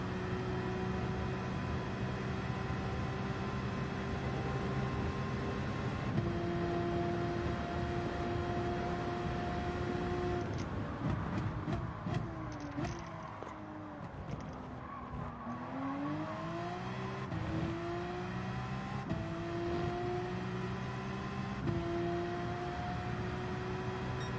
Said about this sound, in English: Bit of Tokyo drifting around the final corner on the hard compound tyres.